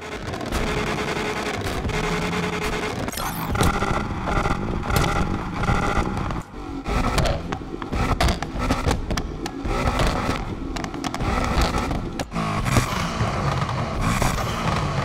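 Loud car engine revving with crackling exhaust pops and flame bursts in the racing game NFS Unbound, continuous and close, with gear shifts and rough bursts throughout and no speech.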